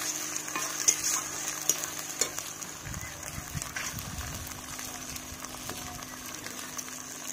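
Chopped onion and ground garlic paste frying in oil in a pan, a steady soft sizzle under clustered scraping stir strokes in the middle, with a few sharp clinks early on.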